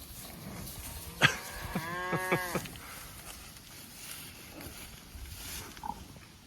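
Cows grazing in a pasture of clover, grass and giant ragweed give a long, clear moo up close, then quieter background lowing and chewing over faint outdoor ambience.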